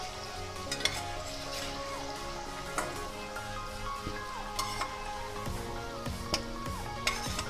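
Fried chicken sizzles steadily in hot oil as pieces are stirred and lifted out, with a continuous loud crackle broken by scattered clinks and scrapes of a utensil against the pan.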